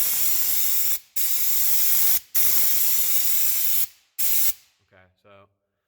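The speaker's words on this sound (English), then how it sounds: "I'm going to do a little spray on this." Black rust-proofing coating sprayed from an aerosol onto a vehicle frame rail, coming as four loud, steady hissing bursts with short gaps between them, then a brief quiet clatter before silence.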